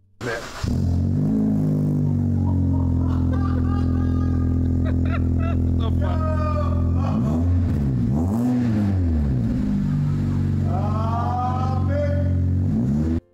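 A Honda car engine idles loudly with a rough, steady drone, briefly revving up and down mid-way, while a person talks over it.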